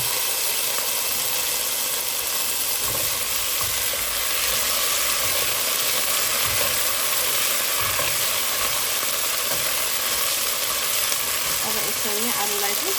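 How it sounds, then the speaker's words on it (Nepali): Potatoes sizzle in a pan for gundruk curry with a loud, constant frying hiss throughout and some stirring scrapes mixed in. "अब चाहिँ लगाइदिँदा हुन्छ आलु।"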